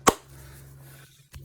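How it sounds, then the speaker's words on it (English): A single sharp hand slap against a knee lands at the start, close and percussive, followed by a faint low hum and a softer second tap near the end. "And then one massive clap for the one who scored the goal."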